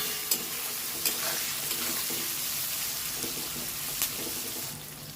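Steady hiss and crackle of onions frying in a pan, with a few soft clinks of stirring, close and continuous.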